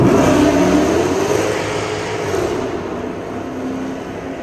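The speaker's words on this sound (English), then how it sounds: "It sounds like a Hellcat." A lifted Ford F350 truck's engine revs with a deep, loud, steady roar that eases off slightly toward the end, heard alone without talk.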